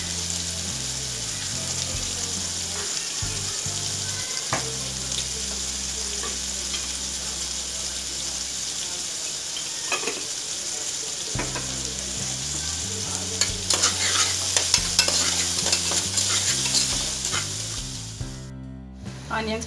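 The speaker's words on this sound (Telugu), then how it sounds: "ఆనియన్స్ ఫ్రై అయిని అల్లం వెల్లుల్లి పేస్ట్ వేసుకుందాం" Onions fry in a pan with a steady crackling sizzle while a spoon stirs and scrapes them in repeated rhythmic passes, close and continuous, with a few louder clatters near the end.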